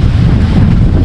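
Very strong wind in light drizzle at a campsite among tents blasts the microphone with a loud, close, continuous low buffeting rumble.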